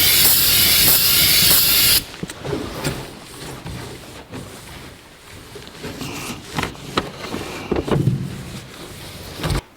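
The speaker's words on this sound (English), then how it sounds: "And we'll do a final wipe down with some brake clean." Brake cleaner sprayed in one loud, close, steady hiss for about two seconds onto the tub of a 1982 Jeep CJ7, then soft wiping and handling noises.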